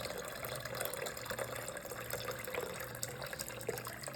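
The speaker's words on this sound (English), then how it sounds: "2 cups of ice water. And we're gonna pour that right in there." Steady pouring of ice water into a bowl, a continuous gushing splash with faint clinks, close and fairly even throughout.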